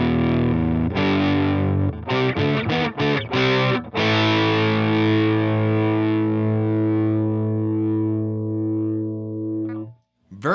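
Electric guitar run through a DOD Boneshaker distortion pedal with settings around noon, a long distorted chord, then a quick choppy burst of strums, then another chord that sustains and slowly decays.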